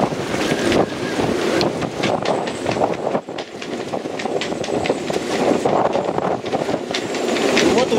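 Strong wind blows over a sailboat riding at anchor in a storm off Zakynthos, a loud continuous roar with rattling and gusting surges and a brief lull near the middle.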